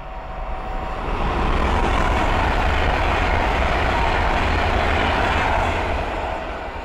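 An Avanti West Coast Class 390 Pendolino runs from London Euston to Liverpool Lime Street past Linslade on the West Coast Main Line, a loud, steady rushing roar that swells and holds near before easing slightly, with no talk.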